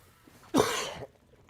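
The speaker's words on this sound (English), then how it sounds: "I just have this fucking terrible cough" A single harsh, rasping cough sounds close up, lasting about half a second against near silence.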